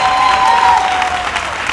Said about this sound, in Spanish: Si ese aplauso es para mí, está bien, pero si es para Cristo, debe ser lo más fuerte